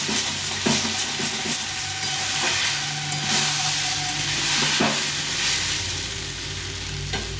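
Mixed vegetables with tomato fry in a pan for a small-fish chorchori, a loud continuous sizzle close by, broken by occasional clinks and scrapes of a stirring spoon.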